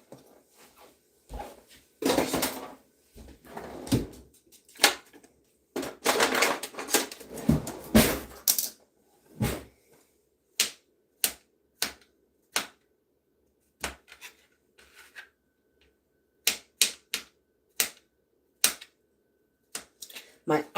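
A knife chops food on a cutting board for crockpot stroganoff, first amid a busy stretch with talking, then as sparse, crisp individual chops spaced out and close.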